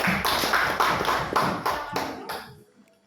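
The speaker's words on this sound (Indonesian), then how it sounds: "Tepuk tangan buat kelompok." A small group in a class session claps by hand in quick, uneven bursts that fade out over about three seconds, leaving near silence at the end.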